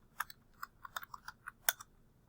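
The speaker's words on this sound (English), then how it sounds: "You can type in your topic. I'm going to type in global warming." Computer keyboard being typed on for a search, about a dozen soft, quiet key clicks in a quick irregular burst in a silent room.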